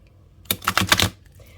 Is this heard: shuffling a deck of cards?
yes